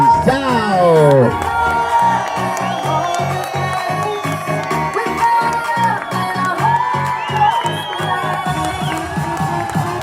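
Wedding guests cheer and whoop for the bride's parents as they are introduced, a loud crowd roar with shouts over music carrying a steady rhythmic beat.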